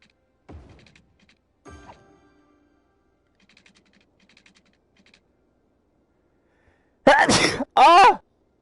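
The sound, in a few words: sneeze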